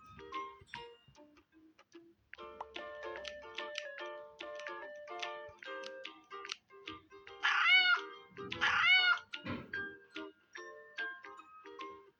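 A cartoon cat meows repeatedly in a Toca Boca mobile game, its bright rising cries standing out over chiming, tinkling game music and twinkly effects, with two louder cries near the end.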